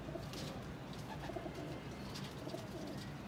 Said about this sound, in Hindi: ये आपने कबूतर देखा फिरोजपुरी माशाल्लाह।